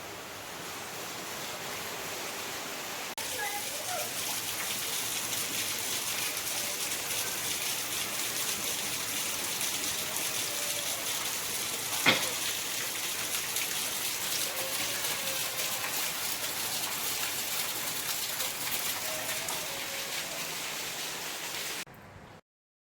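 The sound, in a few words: heavy rain falling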